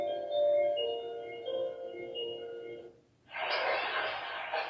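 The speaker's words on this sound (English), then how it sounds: "Those are sea waves." Sea wave sounds from a Hubble Connected smart baby monitor, a steady broadband wash of surf that begins after a short pause and follows a tonal melody. It plays moderately loud and fairly close.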